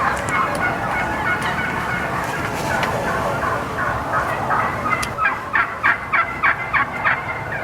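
Wild turkeys gobble during a hunt, a thick chorus of overlapping gobbles that later breaks into a rhythmic series of separate, distinct calls, fairly close and loud.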